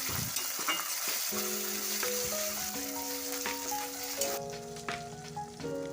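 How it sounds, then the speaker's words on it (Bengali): Ginger garlic paste and chopped tomato sauté in a pan with a steady crackling sizzle and occasional stirring scrapes, while a faint melody plays in the background. "এরপরে এটাকে আমি ভালো করে নেড়ে চেড়ে হালকা কষিয়ে নেব"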